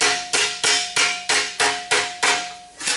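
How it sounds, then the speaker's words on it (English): Hammer blows on a sheet-metal fender patch for a 1957 Chevrolet Bel Air: about eight sharp, ringing metallic strikes at a steady, fairly quick rhythm, loud and close with no talking. "take my hammer and hitting just to the right of it"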